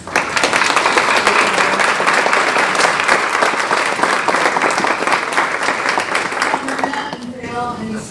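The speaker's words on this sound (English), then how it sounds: "We have a round of applause for their attendance." At a fall grant celebration, a crowd claps for school board and city council members in attendance, loud sustained applause that thins toward the end as a voice and a few tonal sounds come through.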